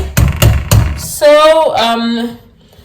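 A few sharp metallic clattering scrapes from a wire cooking stick up front, then a voice speaks briefly over a softer, continuous stirring of millet porridge in a pot on high heat.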